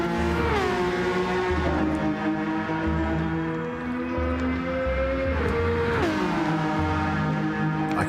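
A loud, steady roar of a race car engine in Gran Turismo 7, with several shifts in pitch as it revs and changes gears, continuous throughout with no talking.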